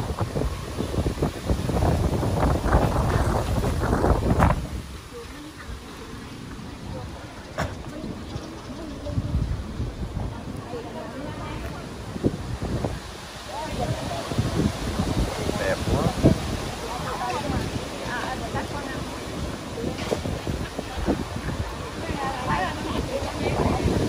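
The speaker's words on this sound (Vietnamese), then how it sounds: "Trời gió quá trời luôn á." Strong wind buffets the microphone outdoors at a pagoda, with heavy rumbling gusts rising and falling throughout, loudest at the start, and faint voices underneath.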